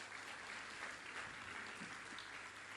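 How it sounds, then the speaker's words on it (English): Audience applause at a business forum as a safety officer is called to the stage: a steady, even patter of many hands clapping throughout, fairly faint and distant, with no talk over it. "A round of applause for her."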